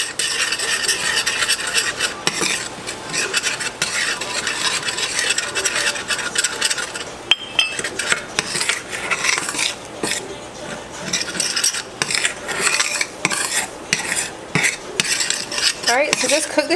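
Flour being stirred into melted butter in a metal pan to make a roux for lobster mac and cheese, giving a steady scraping, rubbing stir with spoon-on-pan clinks running throughout, close and fairly loud, no talking.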